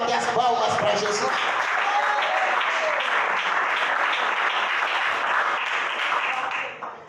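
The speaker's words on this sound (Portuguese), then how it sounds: "A igreja pode bater as palmas para Jesus." A church congregation claps together in a steady, dense burst of hand clapping that holds loud and even for several seconds before cutting off abruptly, with crowd voices mixed in.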